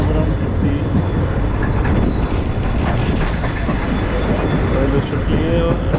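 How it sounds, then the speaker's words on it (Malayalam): A local train running on the line toward Ramanathapuram railway station in Tamil Nadu, heard as a loud, steady rumble that fills the whole stretch with no clear breaks. "റെയിൽവേ സ്റ്റേഷനിലേക്ക് ട്രെയിൻ പോയിക്കൊണ്ടിരിക്കുകയാണ്."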